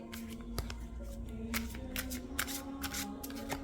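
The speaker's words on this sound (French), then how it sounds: "Je n'ai pas de problème pour mélanger les cartes." Large oracle cards shuffled by hand, a continuous soft riffling and flapping with occasional crisper snaps, close and fairly quiet against a low background hum.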